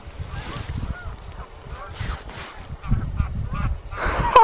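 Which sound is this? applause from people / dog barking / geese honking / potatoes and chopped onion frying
geese honking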